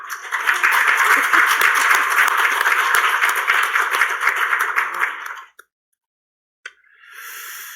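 Church congregation at a Sunday worship service applauding a child visitor, dense even clapping for about five seconds that stops abruptly, followed by a brief pause and faint room sound.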